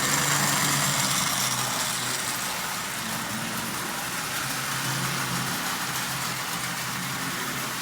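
A restored prewar Marx Canadian Pacific toy train electric motor, once frozen at the armature, runs with a steady, close, high whirring hum that stays even throughout, with no voices.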